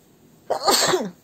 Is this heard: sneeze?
yes